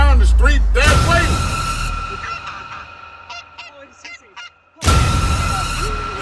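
Several birds give loud goose-like honks at close range, repeated calls under a booming low rumble, with quieter calls between louder bursts.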